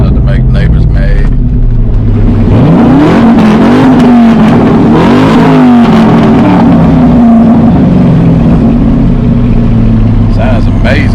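A Corvette engine that is running poorly revs loudly and close by, climbing and falling in several throaty surges over a continuous rumbling idle that stays harsh and heavy throughout.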